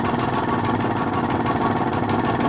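A Vire 7 inboard engine on a Trident yacht runs at a steady idle, a close, continuous low mechanical hum with a fast even throb and no other sounds.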